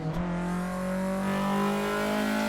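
A race car in the Formula Sim Drift driving game, on a Utah track layout driven in reverse, holds a loud, steady, close engine drone with a brief rise in pitch.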